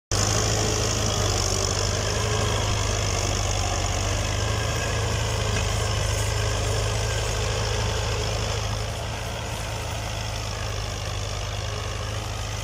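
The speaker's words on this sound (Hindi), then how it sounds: "दोनों ट्रैक्टर के साथ अभी ज़मीन तैयार की जा रही है।" Two tractors preparing village farmland for rice run with a steady, droning engine rumble close by, heavy and continuous throughout with no talk.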